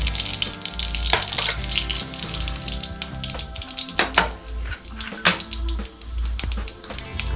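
Mustard seeds dropped into hot oil in a pan, bursts of crackling and spattering with clinks of a utensil against the pan, loud and close, no voices.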